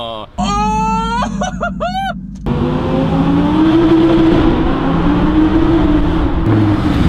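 A performance car engine revs loudly, held in performance mode, a steady roaring drone running continuously after an opening burst of excited shouting voices.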